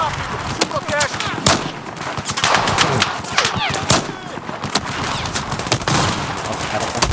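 Rapid machine gun bursts and scattered gunfire from Battlefield 4 rattle almost nonstop, loud and close, with excited shouting voices mixed in.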